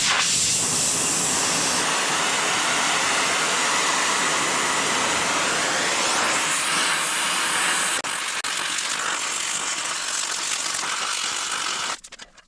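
A cutting torch roars in a steady, loud, close hiss while burning the heads off rusted bolts, the sustained blast shifting slightly in tone before stopping at the end.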